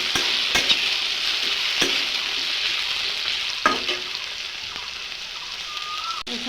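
Tomato goes into hot oil with tempering spices for dal, a steady close sizzle and crackle of frying with a few sharp stirring clinks, no voice.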